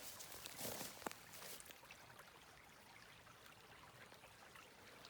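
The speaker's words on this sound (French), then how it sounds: "C'est un petit, pas rivière, on va dire, mais un petit ruisseau" A small stream in a valley in the Monts d'Arrée, Finistère, flows quietly with a soft, steady wash of water, faint and continuous, with a slightly stronger splash near the start.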